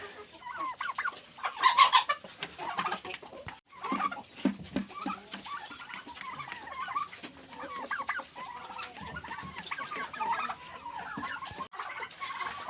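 A hen clucks in a home poultry yard, a series of soft, irregular clucks and low throaty calls at close range, fairly quiet, with brief louder bursts.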